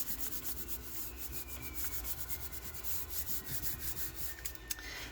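A paper scrap being rubbed down by hand over a Gelli printing plate carrying leftover paint, giving a steady, close, soft scuffing and sanding texture throughout with no talk.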